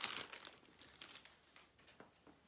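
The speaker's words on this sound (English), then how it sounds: "you get the keypad out of its plastic bag" Soft, continuous crinkling of a thin plastic bag as a LyncTouch keypad is pulled out of it, close and quiet, with irregular bursts of rustle.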